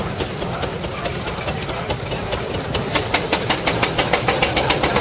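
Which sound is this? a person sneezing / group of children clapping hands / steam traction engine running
steam traction engine running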